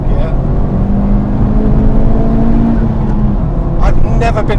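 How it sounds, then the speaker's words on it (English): Honda Civic Type-R FK8 turbo engine heard from inside the cabin, a loud droning note climbing steadily as it revs toward the top end, then dropping away, with a brief burst of higher noise near the end. "I've never been in a turbo car that wants to rev at the top end as much as this does"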